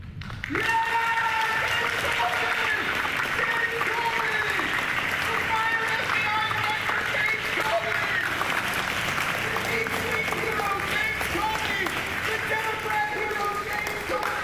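Raucous applause and clapping from a crowd fills the whole stretch, steady and loud, with voices and some music-like tones running underneath.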